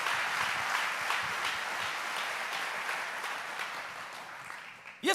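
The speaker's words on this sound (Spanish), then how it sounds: "Dele fuerte ese aplauso al Señor." A church congregation claps together in sustained, even applause that fills the space for several seconds before cutting off.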